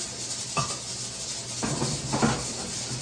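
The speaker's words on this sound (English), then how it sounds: "I'm going to give it a little stir, a little more stir." A ground chicken sausage mixture with seasonings is stirred, giving a few soft, close rubbing and scraping strokes spaced over a few seconds against a constant background hiss.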